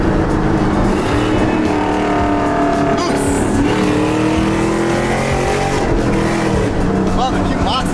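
A Chevrolet Camaro engine roars loud and steady through a downshift as revs rise and fall, with excited voices talking over it.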